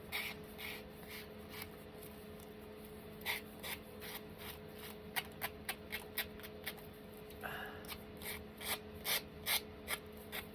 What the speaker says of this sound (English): But I'm going to see if you just sand that.